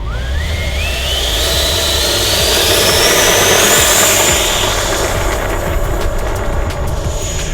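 An FMS F-16C RC jet's motor runs before takeoff, whining loudly and climbing steadily in pitch as it spools up over a constant rushing roar.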